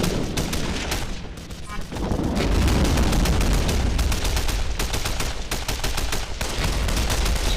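MG42 machine gun fired in a World War II video game, dense rapid bursts of automatic fire with distant booms and battle noise in the background, continuous throughout.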